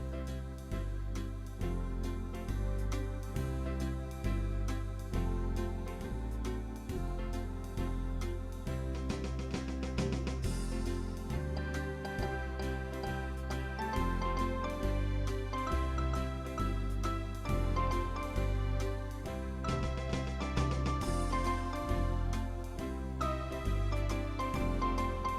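A keyboard plays a melody, a continuous, fairly loud passage of chords and tune with no talking.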